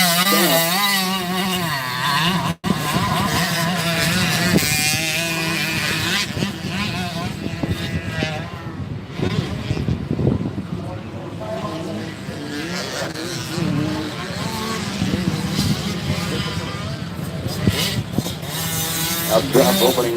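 Motocross dirt bikes race over jumps at Muddy Creek in Tennessee, engines revving and whining loudly throughout while an announcer talks over the action.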